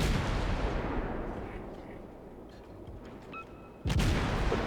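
Destroyer deck guns firing shells in a naval combat video game, a sustained rumbling barrage that fades slightly before a sharp, loud salvo near the end.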